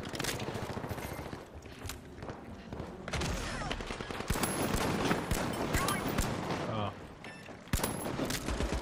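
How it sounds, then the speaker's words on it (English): Gunfire in The Finals, a team-based online shooter, with bursts of shots crackling under a continuous dense mix of game action and footsteps, some volleys sounding distant and others nearer, while players talk over it. "Gunshots! All the way over there."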